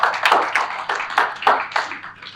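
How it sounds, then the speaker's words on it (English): Audience at a sustainability dialogue event giving a round of applause, a brief patter of sparse, uneven claps from a small crowd, fairly close and fading after a couple of seconds. "Please give them a round of applause and welcome them on stage."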